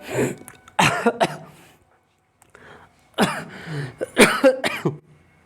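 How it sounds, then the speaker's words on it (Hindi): A few harsh coughs in separate bursts, close and fairly loud, with short pauses between them and no talking. "थोड़ा खांसी आ गया है"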